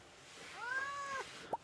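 A cat meows once in the Stardew Valley video game, a clear rising-then-falling tone lasting under a second, followed by a short higher chirp against a quiet background.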